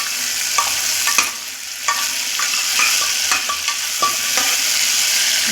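Spice masala frying in a pan for an Indian dish is stirred in slow rounds, giving a steady close sizzle broken by soft scraping clicks of the spoon against the pan.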